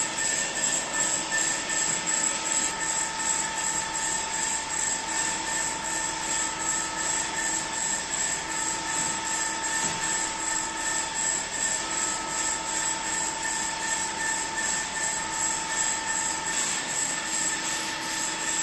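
A CNC machine with a Fanuc control jogs one axis at a 3000 mm/min feedrate, giving a steady, continuous mechanical whine and hum with sustained tonal lines that holds evenly throughout.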